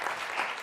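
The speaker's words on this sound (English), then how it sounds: "Applause for Adrian." Brief burst of dense audience applause at a high-level conference on education financing, steady and full throughout with no break.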